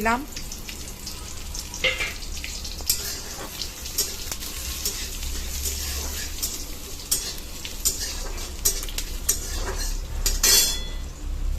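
Dry chilli, nigella seeds and crushed garlic fry in hot oil for a tempering, sizzling steadily with repeated clicks and scrapes of a utensil stirring against the pan, close and fairly quiet.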